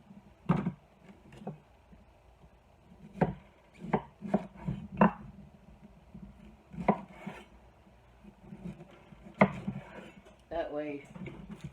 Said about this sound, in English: So you just take a spoon and scrape them out